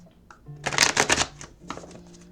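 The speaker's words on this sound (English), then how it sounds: "So let's just shuffle again and see what comes out." A quick riffle-shuffle of a tarot card deck, a short burst of fluttering snaps, then a softer second shuffle with light tapping.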